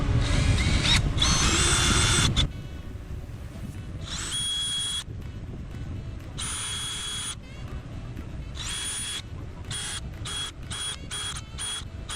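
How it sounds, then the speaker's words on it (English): A loud power drill whirs steadily while drilling holes in plastic for installing tow hooks on a C5 Corvette, then runs in repeated short bursts with brief stops, close up with no talking. "I'm gonna drill some holes with just in the plastic"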